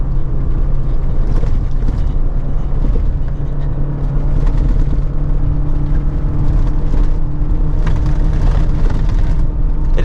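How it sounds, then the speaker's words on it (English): A 2024 GMC Canyon AT4X AEV Edition pickup rolls over a washboard gravel road, giving a steady, loud low rumble of tires and engine with constant jittery road noise throughout, no voices. "Yeah, even this washboarding kind of upsets the truck a little bit."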